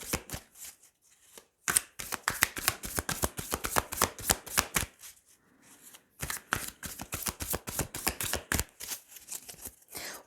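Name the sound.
shuffling and drawing tarot cards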